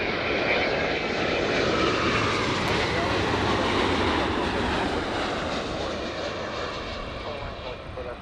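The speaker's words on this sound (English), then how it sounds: "Very nice touchdown there by the Dreamliner from Seoul." Air Premia Boeing 787 Dreamliner from Seoul landing at LAX, a loud broad jet roar that sustains and slowly fades as it touches down, with some voice faintly under the noise.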